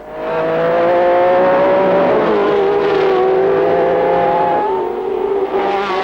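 Several 1967 Formula 1 race cars crest the Flugplatz bump on the Nordschleife. Loud, sustained high-revving engine notes run through the whole stretch, with pitch sweeps as the cars close in and pass, and the engines overlap one another.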